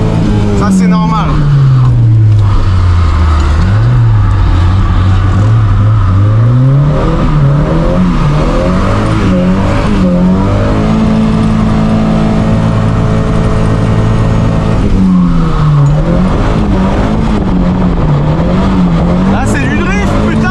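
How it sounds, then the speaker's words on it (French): A drifting car's engine revs and wails loudly, rising and falling through gear changes with tire noise, close and continuous, under excited talk. "Là c'est du drift, putain, tout à l'heure c'était du grip."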